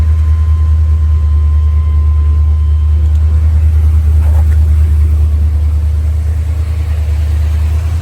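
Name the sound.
1979 Chevrolet Corvette engine running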